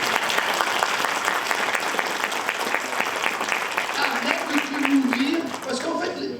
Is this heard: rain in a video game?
no